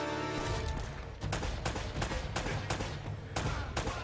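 Weapon fire in the video game Uncharted: Drake's Fortune includes grenade launcher shots, heard as a rapid run of loud, sharp blasts and bursts that repeat over a constant background of combat noise, with no voices.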